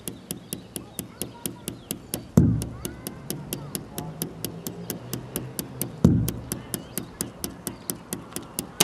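Steady tapped beat from two pens struck on hands, crisp regular clicks in a fast even rhythm with two heavier bass hits, close and moderately loud, under a voice talking.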